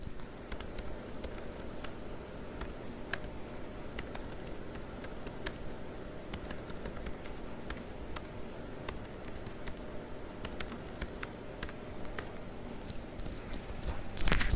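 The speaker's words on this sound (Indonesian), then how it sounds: "kita mengetik des mahasiswa" Rapid, steady keystrokes on a computer keyboard as a MySQL command is entered at a command prompt, close and clear with irregular clicks throughout and no talking.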